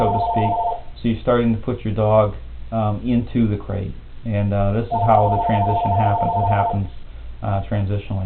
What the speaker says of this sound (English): You can hear the phone ringing in the background here.